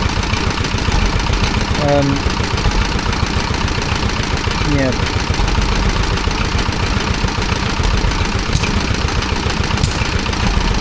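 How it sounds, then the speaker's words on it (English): A Petter PAZ1 diesel stationary engine powering a Bamford milling engine at a rural show, running with a loud, steady low chug and knocking beat, close by, with voices in the background. "Got another Petter. This one's a Petter PAZ1 diesel."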